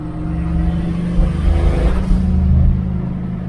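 A turbocharged car accelerates on the road, a steady close engine rumble swelling with rising revs, heard from inside with no talking.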